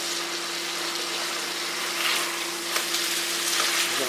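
Meat pieces with spice sizzling steadily in fat in a pan, a continuous close frying hiss with a faint hum underneath and no talk.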